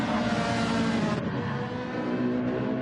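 Ferrari 458 GT3 race car lapping Bathurst in a racing video game, its engine a steady loud drone with a brief lift around the middle before pulling on again.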